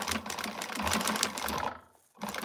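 A sewing machine stitches a slouch shoulder bag, its quick needle clatter running steadily before it stops briefly and then starts again, heard up close and fairly quiet.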